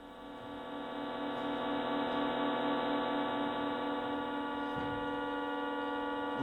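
Sonified pulsar beats, sped up until they become musical notes, form a steady, quiet electronic tone with layered harmonics that holds evenly throughout.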